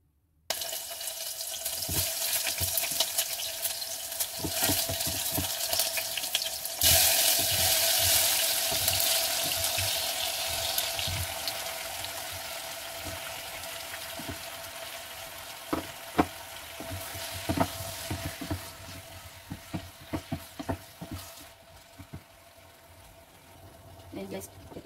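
Tomatoes frying in a hot pan make a steady close sizzle that lasts throughout, with stirring clatter and some splashes of running water, while a person talks over it.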